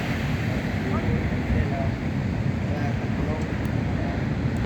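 Sea surf washes continuously onto a beach at night near a bonfire, a dense, steady roar with wind rumble against the microphone and no distinct breaks.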